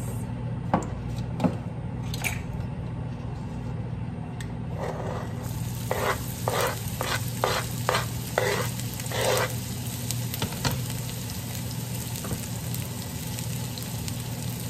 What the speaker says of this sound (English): We're gonna let that sizzle.